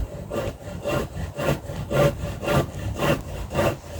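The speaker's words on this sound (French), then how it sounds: "Et on perce pour la vis." Drill boring a screw hole into wood, a rhythmic rasping grind pulsing about twice a second, close and steady throughout.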